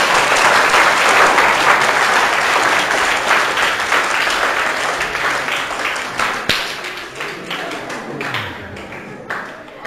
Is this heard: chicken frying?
no